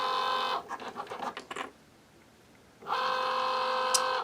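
A Cricut Joy XTRA cutting machine runs a test cut, giving a close, whirring motor whine with brief stuttering movements, a pause of near silence, then a steady renewed whir.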